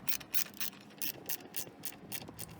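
A ratchet works on bolts under the hood of a 2001 Honda Accord EX. It makes quiet, close clicking bursts in a quick uneven rhythm, about nine sets of ratcheting strokes with no voices.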